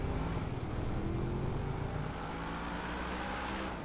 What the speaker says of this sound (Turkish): Arabayı bir test ediyoruz.